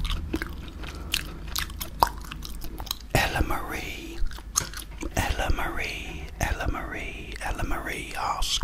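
Gum is chewed right at the microphone, with moist smacking, biting and crunchy clicks in an irregular rhythm, mixed with soft whispering.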